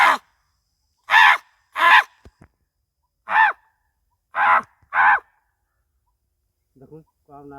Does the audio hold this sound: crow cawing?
yes